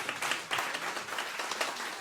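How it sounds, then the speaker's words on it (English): An audience at a panel interview on the Soul Train Cruise applauds a guest with a quiet, fairly distant patter of many hands clapping, steady for the whole stretch. "Let's give a round of applause for Herb."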